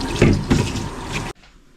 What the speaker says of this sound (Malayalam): അതിനെ നന്നായിട്ട് കഴുകിയിട്ട് വെള്ളം കളഞ്ഞെടുത്ത് വെക്കാം